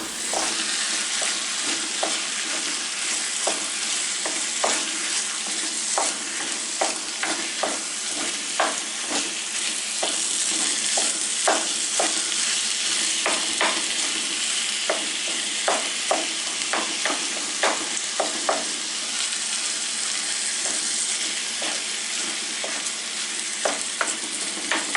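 Ground meat browning in a hot pan for spaghetti meat sauce, a steady loud sizzle and crackle running throughout with frequent sharp pops and occasional scraping stirs, no voices.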